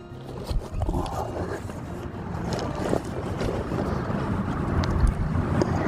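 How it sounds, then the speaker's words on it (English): Wind blows through the woods, a loud, gusty rush that buffets the microphone and swells and fades unevenly without a break. "So I got some wind going on"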